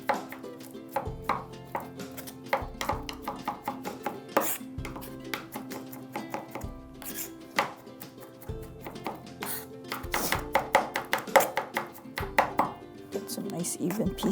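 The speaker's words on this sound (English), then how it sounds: "Crushing it like that, it's easier for you to get nice finely minced garlic." A chef's knife smashes and minces garlic on a cutting board in a home cooking-show kitchen, with a steady run of quick, close chopping taps and occasional clinks of utensils, and faint talk in the background.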